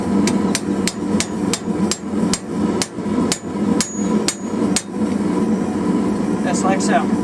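Hammer blows forging a metal poppy flower, about a dozen sharp ringing strikes in a steady rhythm over a constant hum, followed by a brief pause and lighter clinks.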